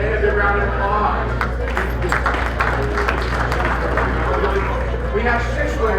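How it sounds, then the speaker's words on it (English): An audience applauds and claps for Emily at a raffle announcement, a steady full round of clapping and crowd noise with some chatter mixed in. "Give Emily a big round of applause."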